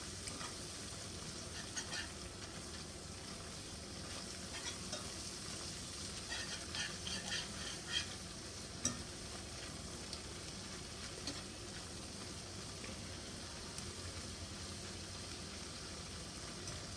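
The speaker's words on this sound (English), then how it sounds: "we'll just start mixing everything together" Salisbury steak ingredients get mixed together, giving a faint, steady wet sizzling-like hiss with soft scraping and squelching throughout, close and without talk.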